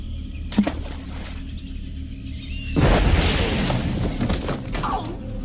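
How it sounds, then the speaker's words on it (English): A grenade explosion in a 1983 horror film: a sharp crack lands early, then a loud rumbling blast rolls in and decays, debris-like noise trailing off. "a grenade explosion sends him back to World War II France."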